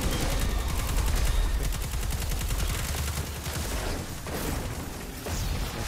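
Sustained heavy gunfire in a boss mission of a shooter game: rapid, dense automatic bursts that stay loud and continuous, with a few sharper individual cracks near the end.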